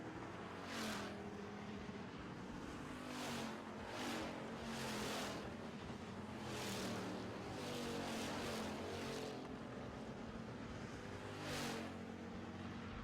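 Pure stock race cars battle through a feature race on an oval, making a continuous loud engine roar with repeated swelling passes every second or two as cars sweep by, with no talking.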